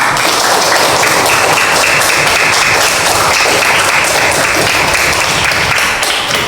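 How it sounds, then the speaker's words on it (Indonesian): Dense, steady applause from a classroom of students clapping for a presenting group, loud and continuous throughout with no talk over it. "tepuk tangan untuk kelompok 2."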